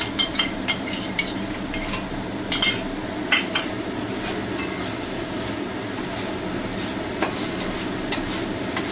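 Fried rice with chili sauce, tomato sauce and soy sauce being mixed in a pan, metal spatula clinking and scraping against the pan in quick repeated strokes over a continuous frying hiss.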